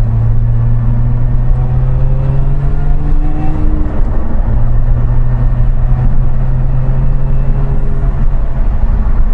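A Lotus sports car engine idles while warming up, with a loud, close, steady low drone and a slight wavering in pitch partway through. It runs alone, with no talk.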